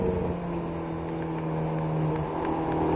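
An Alpine A110S accelerating on the Nogaro circuit during a driving course, a fairly quiet, steady engine hum with a sustained low tone and faint ticking clicks, heard alone without voices.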